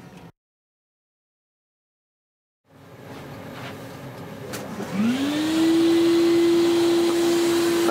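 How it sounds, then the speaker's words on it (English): A vacuum cleaner hoovering small model kit parts starts up after a brief silence, its motor whine rising in pitch and then holding a loud, steady drone up close. "As always, give them a quick hoover."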